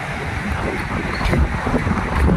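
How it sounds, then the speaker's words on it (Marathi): Large sea waves surge against the fill and concrete blocks of a jetty under construction at Jeevna Bandar, Shrivardhan, a steady broad roar of surf mixed with wind buffeting the microphone. "लाटा पण खूप मोठ्या मोठ्याने उसळताना दिसत आहेत"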